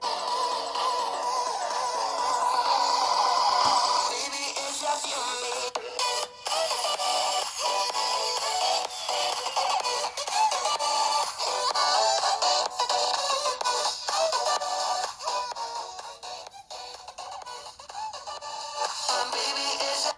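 Music plays from an Honor 8C smartphone's small, tinny loudspeaker, thin and bright with little bass, sounding strained at high volume for a long stretch.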